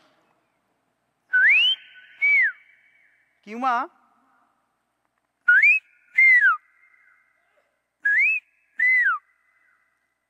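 A man whistles an imitation of the Indian pitta's call, three paired rising-falling phrases with pauses between. A brief spoken word and a short warbled note come between the first two pairs.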